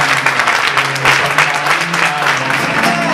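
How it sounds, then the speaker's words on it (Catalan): Loud audience applause at a Catalan school event, broad continuous clapping that runs the whole stretch, with a faint sung or voiced tone carrying underneath. "Vull un fort aplaudiment per la gent de Som Escola"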